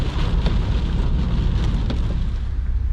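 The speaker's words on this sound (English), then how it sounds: "This rain is crap." Heavy rain pours in a dense, steady roar outside on an MOT day for an Audi RS3, loud and close with scattered sharper drops hitting nearby surfaces.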